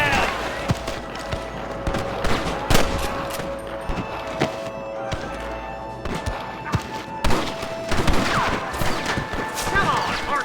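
Gunfire in the Western video game Red Dead Redemption, with repeated rifle and pistol shots and bursts going off in an irregular fusillade. Shouted game dialogue, ambient noise and occasional thuds sit underneath the shots.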